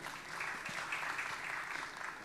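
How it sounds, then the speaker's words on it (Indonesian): An indoor audience at an interfaith harmony forum claps steadily, a dense wash of many hands heard from a distance at moderate level, with no talk over it. "Tepuk tangan buat kita semua."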